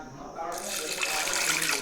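Water runs and splashes into a pan to rinse toor dal for dal dhokli, a steady broadband wash that swells sharply after a quieter start and continues at an even level.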